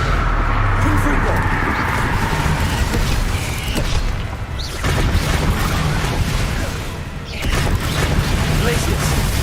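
Repeated Confringo blasting-curse bursts from Hogwarts Legacy, played on PS5: dense, loud, booming spell blasts that pop and crackle over nine seconds, with voices shouting throughout.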